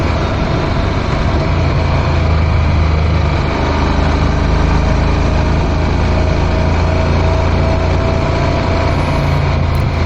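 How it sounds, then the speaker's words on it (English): Honda CTX motorcycle with dual clutch transmission climbing through mountain curves, its engine droning loud and steady throughout with wind roar and subtle shifts in engine tone as gears change. "You can hear the gear shifting with the dual clutch transmission on the CTX."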